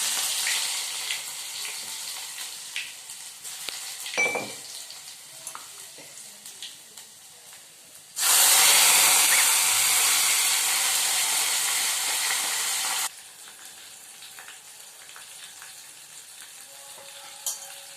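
Cumin seeds, curry leaves and garlic drop into hot oil and burst into a loud, bright sizzle that holds for about five seconds before settling, with quieter kitchen clatter and stirring before and after.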